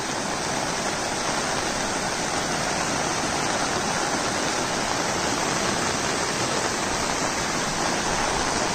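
Loud, constant rushing of a monsoon-swollen stream at a small dam in the Konkan, a dense unbroken roar close by with no pauses or voices.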